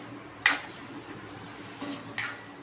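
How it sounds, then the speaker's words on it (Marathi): Tomato and coriander being sautéed in a pan: a quiet background hiss with two sharp clinks of a utensil against the pan as the mixture is stirred. "आता यामध्ये कोथंबीर आणि टोमॅटो दोन्ही घालून घ्यायचं आहे आता परतवून घ्यायचं आहे"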